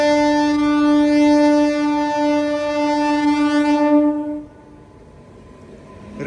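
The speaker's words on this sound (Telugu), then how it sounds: "DEMU ట్రైన్ అయితే కాచిగూడ నుంచి బయటకు వచ్చేస్తుంది." A DEMU train pulling out of Kacheguda sounds a long, loud, sustained horn blast close by, then the horn cuts off, leaving quieter rumbling of the rail cars.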